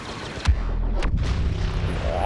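A grenade goes off in the video game Star Wars Battlefront, a loud close boom followed by a rumbling tail and another blast-like thud, with no talking.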